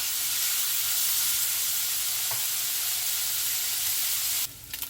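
Oil sizzles hard in a pan on a stove while food fries until crispy, a dense and continuous hiss with a faint pop or two, loud and close before it drops off abruptly near the end.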